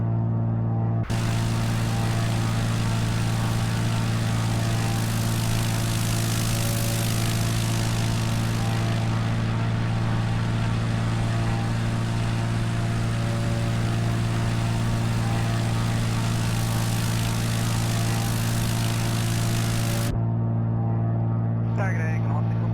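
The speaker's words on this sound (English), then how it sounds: "The engine, when you stand in front of it, it's got a real low growl." A Navion 205 propeller engine in the X-Plane 11 flight simulator drones steadily as a low growling hum with a bright airy rush on top, starting and stopping abruptly, under a voice talking.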